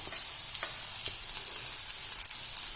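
Ginger sizzles in hot oil for a fish pickle, a constant close frying hiss with a few faint stirring clicks, no voices.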